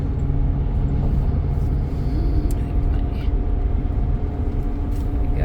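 A 2010 Ford F350 truck rolls along with a steady, dense engine and road rumble heard from inside the cab, continuous and unbroken throughout.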